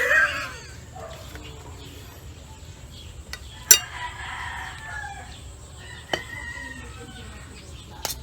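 Roosters crow faintly in the distance amid outdoor ambience, with a few sharp knocks and a dog barking now and then.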